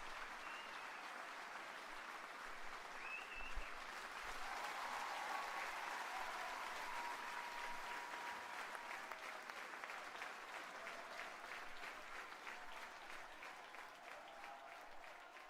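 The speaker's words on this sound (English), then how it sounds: "They're clapping." Crowd applause from the Madden 26 football video game, a sustained wash of clapping at moderate distance that swells and then gradually tapers.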